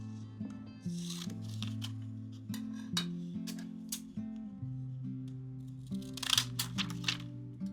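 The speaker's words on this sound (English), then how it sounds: "I'm using some scalloped scissors to make some small scale shingles for the roof" Scalloped scissors cut small paper shingles for a 1:144 scale dollhouse roof, making soft, crisp snips at irregular intervals under steady background music.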